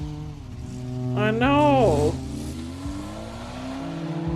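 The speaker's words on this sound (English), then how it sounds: "The sound of the departing car's engine started the countdown." A car engine revs and pulls away in a cozy horror video game, rising in pitch and then fading into a steady low drone as it departs, under a short spoken line.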